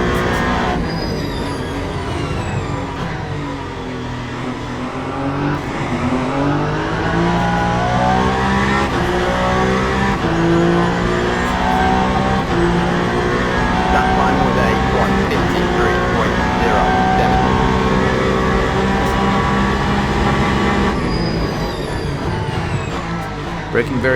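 A hybrid race car in Le Mans Ultimate laps the clockwise 8 Hours of Bahrain circuit. Its loud engine note sweeps up and down continuously through acceleration, hard braking and gear changes, with no gap in the sound.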